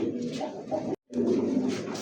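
Chila pigeons cooing close by in a steady, overlapping run of low throaty coos, broken by one brief silent gap near the middle before the cooing resumes.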